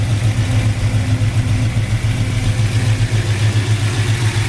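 Close, loud idle from a 1972 Ford Mustang Mach 1 fitted with headers and a dual exhaust, a continuous deep thumping rumble holding an even, slightly lopey rhythm throughout.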